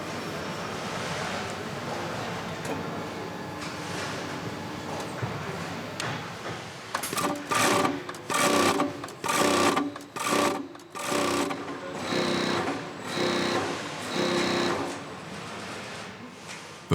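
An industrial sewing machine stitches mattress fabric for a box-spring bed, starting after a stretch of quiet workshop noise and then running loudly in several stop-start bursts, close to the listener.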